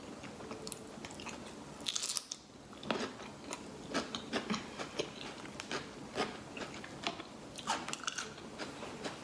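Someone bites and chews crunchy cucumber close up, with repeated crisp crunches in an irregular rhythm against a quiet background.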